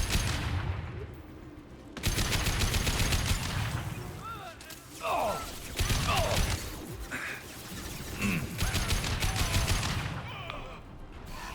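Rapid bursts of sci-fi weapon fire from the video game Mass Effect 2 fill a busy combat scene, with repeated loud volleys, impacts and crashes running almost continuously under a dense, noisy background.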